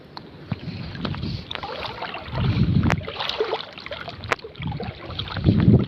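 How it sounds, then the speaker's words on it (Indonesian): Strong wind at sea buffets a small boat during octopus hunting, rumbling in uneven gusts against the microphone with scattered sharp knocks and water splashes. "Angin terlalu kencang guys."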